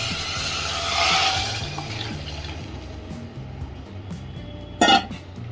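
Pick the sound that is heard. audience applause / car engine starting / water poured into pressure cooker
water poured into pressure cooker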